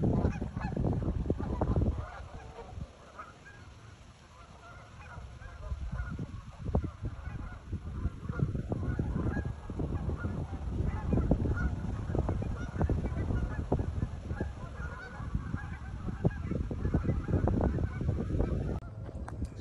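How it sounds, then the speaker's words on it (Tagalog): A large flock of geese honking at Lake Winnipeg, Canada, on a windy day: loud, dense, overlapping calls that go on continuously, with a brief gap. "Kung saan ay napakarami nga pong gansa doon."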